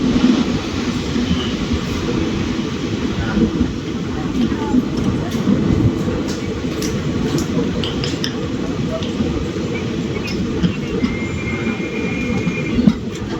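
Silambu Express train pulling out of Devakottai station, wheels rolling and rattling steadily with faint squeals and clacks heard from on board, a continuous loud rumble with a voice speaking over it.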